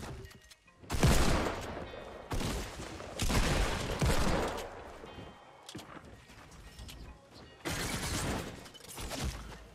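AK rifle gunfire in a video game, several loud bursts of rapid fire separated by brief gaps, with crashing impacts mixed in.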